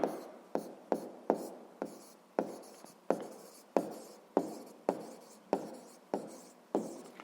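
A student writes a sixth-grade math exercise solution by hand, a steady close scratching of pen strokes repeating about every half second, each starting with a small tap, quiet and without talk.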